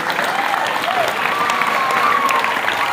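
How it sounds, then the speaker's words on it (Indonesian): Students and staff at a school culture week opening clap together in sustained, dense applause, loud and even, with a faint voice threading through. "Ya, tepuk tangan dulu."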